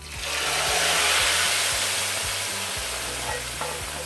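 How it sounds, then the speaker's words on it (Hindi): Browned fried onions sizzle loudly in hot oil for several seconds as they go into a pot of reesha haleem, with a steady hiss and a low rhythmic hum beneath. "तो ये देखिए प्याज ब्राउन हो गया है। इसको मैं अब हलीम में ट्रांसफ़र कर दूंगी।"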